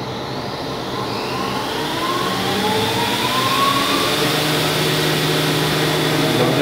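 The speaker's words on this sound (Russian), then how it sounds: "сейчас должен, пуск двигателя пошел." Electric motor of a ZR 160 VSD compressor spinning up during a run test, a rising whine with tones that sweep upward over a steady mechanical roar growing louder, heard close in an industrial setting.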